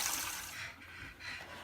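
Warm water poured onto the back of a soap mold for a dog shampoo bar, a soft, continuous trickling wash that swells and dips gently throughout.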